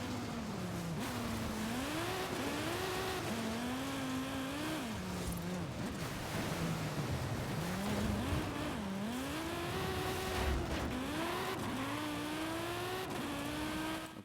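An Audi Quattro S1 rally car in Forza Horizon 5 drives continuously, its engine note climbing and dropping repeatedly through gear changes, loud and close, with no talking.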